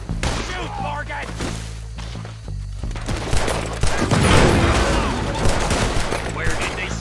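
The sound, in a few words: gunfire in Red Dead Redemption 2 video game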